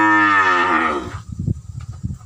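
A muscular crossbred cow at a cattle farm lets out one long, loud, close moo that fades into shuffling and thumping noises.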